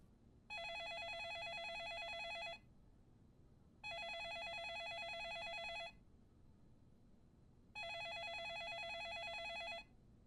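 A telephone rings in Yakuza 4: three evenly spaced electronic ring bursts, each about two seconds long, with quiet gaps between them and no talking.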